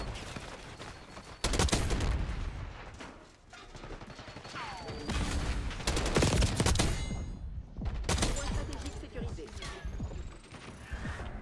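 Rapid AK-47 automatic fire in the shooter Black Ops 6, loud sustained bursts with crashing impacts and brief lulls between volleys, while someone talks over the action.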